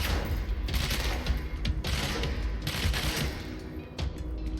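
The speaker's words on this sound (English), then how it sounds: "They're shooting at each other." Rapid, loud gunfire in the video game Control, with continuous overlapping bursts of shots and brief pauses between volleys.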